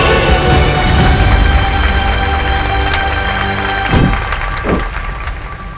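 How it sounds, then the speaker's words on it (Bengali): Loud applause from an audience at a televised women's game show, a dense clatter of clapping close up and sustained throughout, with a couple of thumps toward the end. "জোরে হাততালি।"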